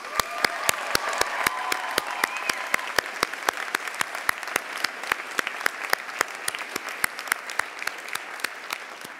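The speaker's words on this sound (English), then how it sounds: "Let's give them a round of applause" A commencement audience applauding, steady dense clapping from many hands with sharp individual claps standing out, sustained and fairly loud throughout.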